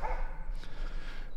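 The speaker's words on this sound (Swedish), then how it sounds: "nu står han och skäller på grisarna" A dog barks at pigs in a farm setting, a couple of sharp barks over a steady low background hum, fairly close and moderately loud with no talk.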